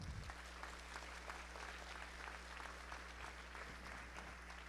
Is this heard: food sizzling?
no